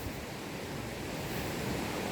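Steady, broadband rushing air, like wind sweeping past outdoors, constant and fairly soft for the whole stretch with no voices.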